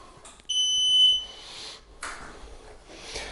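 A folding electric wheelchair gives a single clear electronic beep, a pure tone lasting under a second as its power comes back on, followed by faint handling noise.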